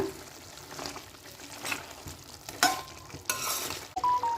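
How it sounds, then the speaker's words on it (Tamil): Lemon pepper chicken being stirred in a pan, a few scraping stirs and light sizzling spread across a quiet, close stretch. "நடுவில் இந்த மாதிரி ஓப்பன் பண்ணி கிளறி விட்டுக்கோங்க"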